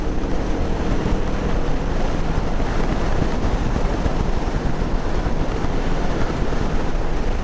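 A Kawasaki Ninja 400 motorcycle on the move, heard as a steady, loud roar of rushing wind buffeting the microphone over a low engine drone, with no letup throughout.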